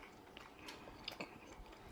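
Crisp bites and chewing on a piece of crunchy duck bacon, close and quiet, with a few sharp crunches and no talking.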